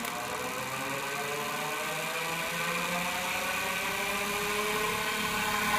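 A spinning magnet of a unipolar generator whirs at a steady pitch as it is spun up faster, a continuous motor-like hum with stacked tonal bands and no pauses.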